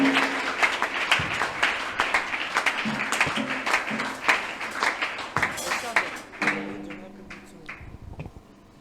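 A church congregation applauding, irregular clapping bursts mixed with voices speaking and calling out, moderately loud and fading toward the end.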